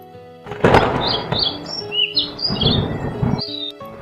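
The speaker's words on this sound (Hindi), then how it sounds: "चिल अपनी आदत के अनुसार आपस में एक दूसरे से चींची करते हुए झगड़ रहे थे" Black kites in a neem tree give sharp, repeated high chirps and squabbling calls, close and fairly loud over a hum of background noise and a couple of dull thumps.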